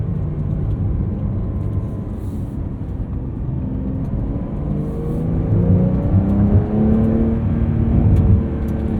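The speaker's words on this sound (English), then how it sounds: "A couple pops and burbles on the off rev, but not too rowdy." A 2023 Porsche 911 Carrera T engine drones and revs steadily, rising in pitch toward the end, with a few exhaust pops and burbles off throttle.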